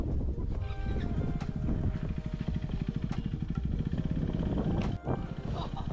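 A KTM Duke 390 motorcycle runs close by while being ridden, its engine holding a steady, throbbing drone with slight rises and dips throughout.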